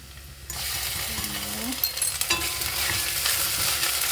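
A spoon stirs sautéed onions with ginger paste in a hot pan for tomato rice, a steady close sizzle with scraping strokes and a few light metallic clinks.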